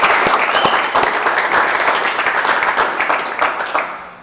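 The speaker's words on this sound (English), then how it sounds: "So give him a round of applause." A room of colleagues applauding at a team meeting, a loud burst of dense clapping that starts at full strength and slowly thins and fades over several seconds.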